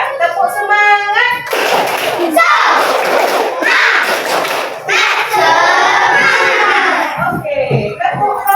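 Classroom children doing a rhythmic spirit clap, bursts of group hand clapping mixed with loud chanting voices in quick patterned beats.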